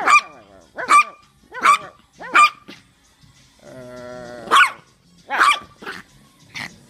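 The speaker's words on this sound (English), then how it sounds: "Yorkie, what you barking for?" A blind Yorkie terrier barks indoors, with loud, sharp, high yaps in a steady series, interrupted once by a brief whine, heard close with no other sounds.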